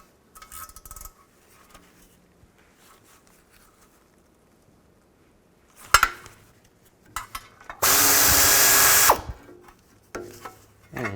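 Power tool driving out transmission cover bolts with a 10mm socket on a 2000-2006 Chevy Tahoe, a short loud whirring burst after some clinks and metallic handling sounds.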